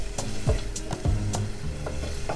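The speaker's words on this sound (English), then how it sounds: "now I'm going to add my 2 cloves of garlic into this" Two garlic cloves sizzling in a hot pan while making chicken tinga for tacos, a steady frying hiss with a few stirring scrapes and clinks near the microphone.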